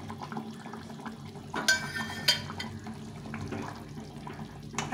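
A fish curry simmers in a pot as slit green chillies go in, with bubbling and watery sloshing, a couple of sharp clinks, and a steady low background throughout, with no talk.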